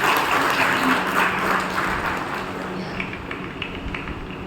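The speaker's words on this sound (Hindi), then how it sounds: "सभी जोर से तालियां बजाइए डॉक्टर कलाम के लिए" Applause from a seminar audience welcoming Dr. APJ Abdul Kalam, a dense, steady clapping that carries loud for a few seconds and then thins and fades slightly toward the end, with no voices over it.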